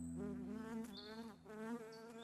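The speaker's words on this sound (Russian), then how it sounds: "первый звук в самом мультфильме — это звук мух." Flies buzz at the start of a Soviet Soyuzmultfilm cartoon, a close, steady whining drone with several overlapping insects that rise and fall in pitch, heard alone without talk.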